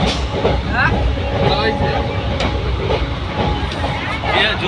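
A train at Dum Dum station in a busy platform setting, with steady rumbling rail noise and crowd murmur throughout while people talk nearby.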